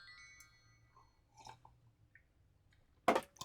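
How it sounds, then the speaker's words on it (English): A person slurps a drink in one short, loud burst near the end, after a stretch of quiet room sound. "Excuse me for slurping."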